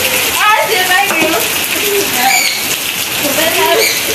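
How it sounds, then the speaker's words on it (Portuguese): Heavy rain pours steadily in a loud, close hiss on a rainy day during a holiday, with voices talking over it throughout. "Tá chovendo, olha."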